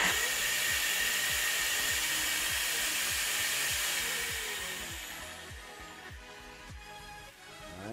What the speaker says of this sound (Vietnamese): cái dòng máy mài một tấc rưỡi này của thương hiệu Boss